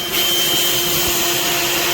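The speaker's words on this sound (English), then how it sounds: "I got to vacuum up some water" A portable shop vacuum sucks up water during a water pressure tank install, a steady loud roaring whine with a constant tone, close by and unbroken.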